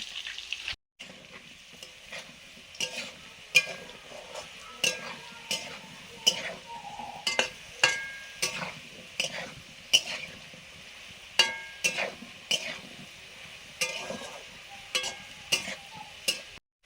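Potatoes sizzle steadily as they fry in a pan, with a regular series of sharp clinks and scrapes from stirring cutting through the frying hiss.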